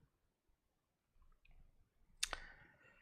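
A single sharp computer-mouse click on a server, crisp and close, in an otherwise quiet room with faint background shuffling.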